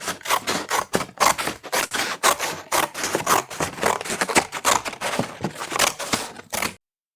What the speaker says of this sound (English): Scissors. Cutting paper.